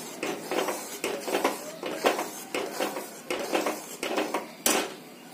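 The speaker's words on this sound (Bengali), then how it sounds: "ভালো করে নাড়িয়ে নেবো, নেড়ে লেগে যাবে নিচে।" A spoon scrapes and clinks against a metal pot while a gram flour and milk mixture is stirred. Close, rhythmic strokes repeat about twice a second, and no one speaks.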